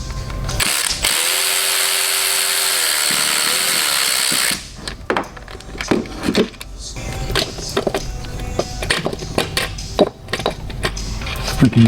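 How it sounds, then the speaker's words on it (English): Hand ratchet and power tool working on a bolt of a BMW F22 with a B58 engine during a transmission cooler install: a steady loud whir for several seconds, then a run of sharp clicking and clattering hits. "I'm gonna use my ratchet to take it out"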